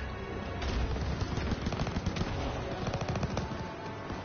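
Call of Duty WWII campaign machine gun fire clatters in rapid, continuous bursts, loud and close, with dense repeated shots filling the whole stretch.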